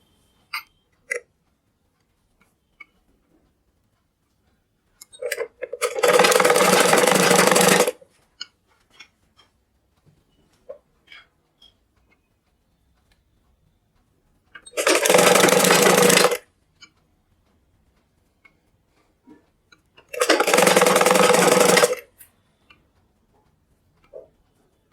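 A sewing machine runs in three separate bursts of stitching on a petticoat, each lasting a couple of seconds with near silence and faint ticks between them.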